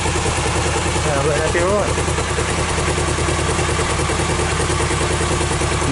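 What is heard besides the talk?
Suzuki GR650 Tempter motorcycle engine idling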